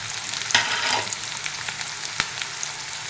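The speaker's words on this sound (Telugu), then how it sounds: "జీలకర్ర వేసుకున్న తర్వాత ఇప్పుడు మనం ఆనియన్స్ యాడ్ చేసుకుందాం." Sliced onions fry with cumin seeds in a hot pan for masala pappu, a steady close sizzle broken by a couple of sharp stirring clinks.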